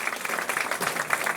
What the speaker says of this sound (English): So give Easton a round of applause for helping out.